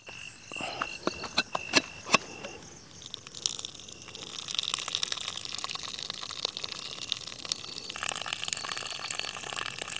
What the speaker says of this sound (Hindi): पानी निकाल के ले आता हूँ।